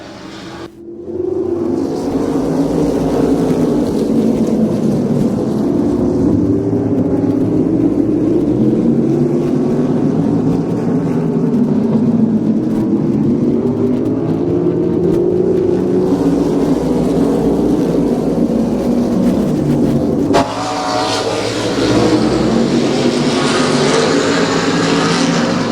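Drag race cars launch and accelerate down a racetrack, a loud engine roar that rises in pitch as they pull away, with a brief drop and a second burst of engine noise near the end.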